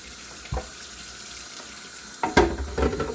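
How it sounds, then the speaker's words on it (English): Tap water runs in a sink as Keurig coffee maker parts are rinsed, a steady faint wash with louder splashing bursts near the end. "Rinse everything off."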